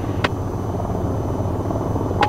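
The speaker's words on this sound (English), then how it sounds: "you'll notice that the engines will throttle down a bit to maintain the proper rotor RPM." Engines and rotor of the AH-94 helicopter in the VTOL VR flight game, a steady low whirring drone with rhythmic rotor pulsing, loud and continuous with no talk.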